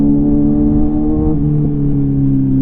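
A Kawasaki Z900 motorcycle engine on a highway, a steady loud droning hum with strong low harmonics that holds and shifts slightly in pitch, close up and alone.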